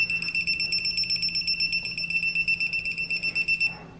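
A rapid, high-pitched electronic buzzer from a digital torque wrench pulses steadily at close range for several seconds, then cuts off near the end, during cylinder head installation on a Volkswagen MK7 Golf R.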